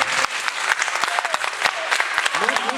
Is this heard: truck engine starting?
no